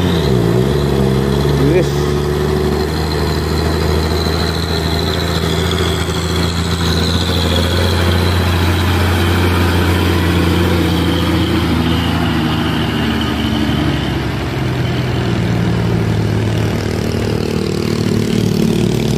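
A Fuso truck engine runs with a loud, continuous low drone and steady harmonic hum that shifts pitch slightly as the truck pulls on the road, while a voice speaks over it briefly.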